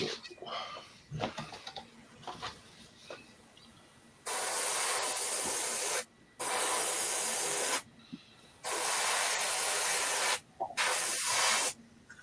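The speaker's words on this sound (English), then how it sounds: "No, it's just my airbrush." An airbrush sprays in several long steady hisses of two to three seconds each, separated by short gaps, after a quieter stretch of faint rustling and handling sounds.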